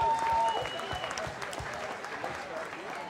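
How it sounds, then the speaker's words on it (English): An audience at a fight night applauds the fighters, with a dense burst of clapping and crowd noise that starts loud, eases a little, and carries on over a brief electronic tone near the start. "a big round of applause for all the fighters tonight"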